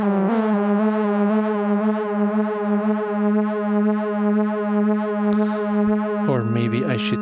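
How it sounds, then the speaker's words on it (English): A sustained modular synthesizer tone through a Joranalogue Audio Design module, with a slow, wavering chorus shimmer, steady and loud, ending in a brief burst of brighter, shifting notes. "it's this effect actually that's being used if you use it to create chorus type effects"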